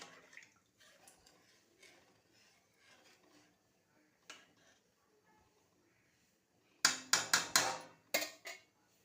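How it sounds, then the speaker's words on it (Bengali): Water is poured into a pan of janta shol fish cooked down in spices, bursting into a short, loud splashing and sizzling flurry near the end after quieter clinks and handling sounds. "এখন আমি জলটা দিয়ে দেবো"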